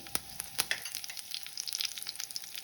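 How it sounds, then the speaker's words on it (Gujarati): Curry leaves hit hot oil with mustard seeds and cumin in a tempering, giving sharp spitting crackles and pops that thin into a softer, uneven sizzle, fairly faint. "પાંચથી છ મીઠા લીમડાના પાન નાખીશું"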